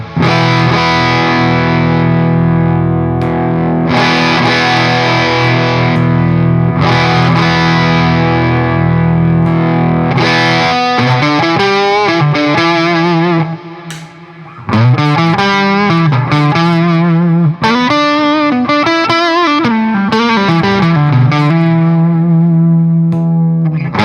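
Electric guitar through a Chandler GAV 19 T amp in normal mode, heavily distorted with effects: long sustained chords ringing for about ten seconds, then a run of bending, wavering single notes and riffs, loud and continuous with no speech.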